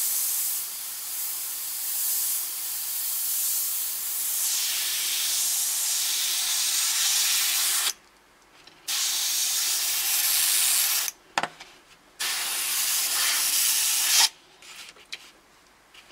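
Badger airbrush laying down a test spray pattern, a steady loud airy hiss running in long bursts with abrupt cut-offs and brief pauses between sprays.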